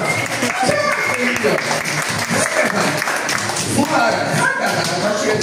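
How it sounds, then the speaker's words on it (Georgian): Applause for a child at a birthday celebration, loud and close, a dense, irregular patter of many clapping hands sustained throughout, with voices talking over it. "აპლოდისმენტები მარტიოსა"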